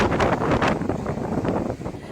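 Strong, steady typhoon wind in Cagayan, Philippines roars and buffets a microphone, a broad rushing noise with gusty surges throughout and no voices.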